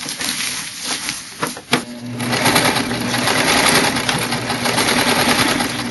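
A sewing machine stitches fabric for an ultralight backpack, starting with a few short bursts and then running in a loud, steady, close-up whir.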